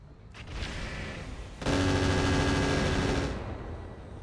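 Enemy mech weapons in the RogueTech game fire a short burst, then a louder, dense barrage that rattles on for about two seconds before easing off.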